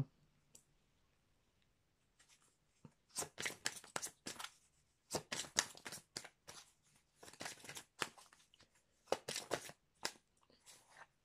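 A Sixième Sens oracle card deck is shuffled up close. The cards make crisp, papery riffling bursts in irregular clusters separated by short quiet gaps, with no voices.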